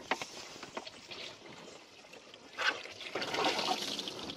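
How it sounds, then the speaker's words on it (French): Water rushing and gurgling into the intake of an Intex above-ground pool pump after a fitting is unscrewed to let air out, starting as faint trickles and swelling into a louder, steady flowing rush, with no talking. "faire un appel d'air pour que l'eau de l'aspiration commence à arriver toute seule"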